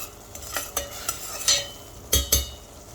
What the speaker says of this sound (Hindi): अब इस टमाटर के साथ हम मसालों को भी भून लेंगे और तब तक भूनेंगे जब तक इसका ऑयल सेपरेट ना होने लगे।